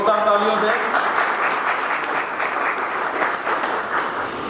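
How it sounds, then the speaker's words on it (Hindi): Loud, dense applause from an audience at an anniversary honoring ceremony, a steady burst of clapping lasting several seconds, with a voice over it at the start. "जोरदार तालियों से"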